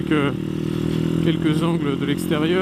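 A 125cc Masai Scrambler motorcycle putters steadily at moderate volume, its engine note rising and falling as it is ridden, with someone speaking French over it.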